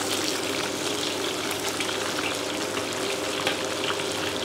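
Skin-on pork belly, brushed with soy sauce, frying in hot oil in a pot, a dense, steady sizzle and crackle close up with small pops scattered through, no voices.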